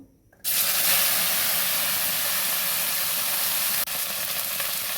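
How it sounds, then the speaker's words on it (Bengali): Okra (lady's finger) frying in oil left over from frying pointed gourd, a loud steady sizzle and hiss that bursts in after a quiet start and carries on with a brief break near the end. "আর পটলের তেলটা ছিল, সেই তেল দিয়ে আমি ঢ্যাঁড়সটাকে ভেজে নেবো"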